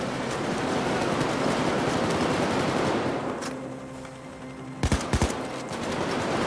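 Heavy automatic gunfire during a bank heist shootout in the video game Payday 2, a dense continuous rattle of shots that thins out midway before a few sharp, loud bursts return.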